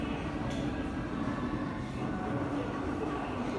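A children's sound book plays a train sound: a steady, dense rumbling roar that holds at an even level throughout, with no clear speech.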